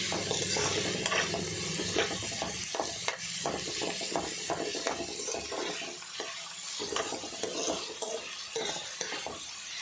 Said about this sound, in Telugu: ఉల్లిపాయ కూడా గోల్డెన్ బ్రౌన్ కలర్స్ వచ్చేంత వరకు ఉల్లిపాయ వేసుకోవాలి